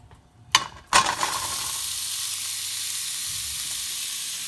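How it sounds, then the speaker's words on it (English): Ground beef drops onto a preheated stovetop pan with two sharp hits, then settles into a steady, bright sizzle that carries on alone. "it is now time to add the ground beef onto it"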